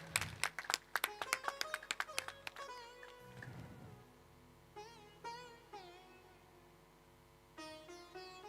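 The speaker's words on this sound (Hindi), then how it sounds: "जोरदार तालियों से स्वागत है एक बार पुनः।" Rhythmic clapping from an audience at a live Ram Katha religious gathering at an ashram, a run of sharp, distinct claps in the opening seconds that give way to sustained musical tones and faint voices.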